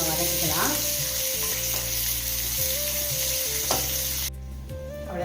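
Onions sautéing with a little salt in a pan until golden for chana masala, a continuous close sizzle and crackle with occasional stirring scrapes and no voices.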